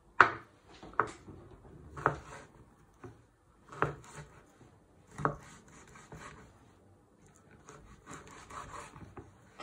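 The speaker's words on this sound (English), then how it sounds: "putting the knife on top of the chorizo and finely slicing it" A knife slices chorizo on a wooden cutting board, making a series of short, separate scraping strokes that are close and fairly quiet, with gaps between them.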